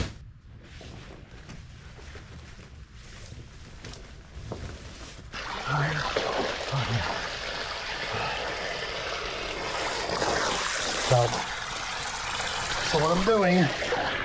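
Water gushes and splashes into a plastic puppy pool as it fills, a steady broadband rush that swells louder partway through, with hands shaping the bottom and someone talking over it.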